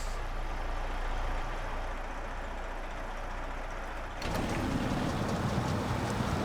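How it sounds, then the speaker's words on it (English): A battered truck engine idles and then runs in Snowrunner, with a low steady rumble that grows louder and rougher as it revs midway. "The engine works."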